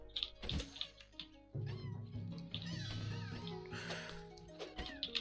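Cartoonish cat-like meows and mewing calls from pandas in the co-op video game Lumberhill, several overlapping cries over a steady game music bed, fairly loud and close.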